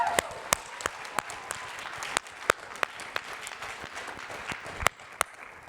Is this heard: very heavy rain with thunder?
no